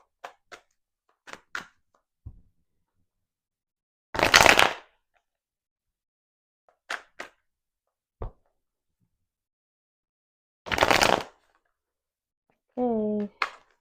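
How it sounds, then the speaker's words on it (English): Tarot cards being shuffled in several separate bursts, each a short papery riffle of about half a second, with a few faint taps and handling sounds between them and a brief voice near the end. "Get like 2 more shuffles."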